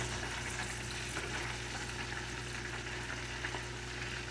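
Fish frying in hot seasoned oil, a steady close sizzle with dense crackling that keeps going without pause and carries no talk.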